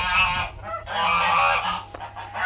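Geese honk loudly and close by in a series of harsh, nasal calls, several overlapping blasts with short gaps between them.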